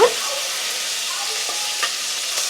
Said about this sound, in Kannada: ಇದು ಬೆಳ್ಳುಳ್ಳಿಲೇ ಹುರ್ಕೊಳ್ಬೇಕು ಚೆನ್ನಾಗಿ. ಬೆಳ್ಳುಳ್ಳಿ ಹುರ್ಕೊಳೋದ್ರಿಂದ ಹಾಗೆ ಎಣ್ಣೆನೂ ಬಿಡುತ್ತೆ.